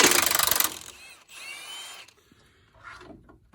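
A ratchet on 18 mm front bumper bolts of a 2022 Ford F250: a brief, loud whirring burst gives way to quieter intermittent clicks and metallic handling close by.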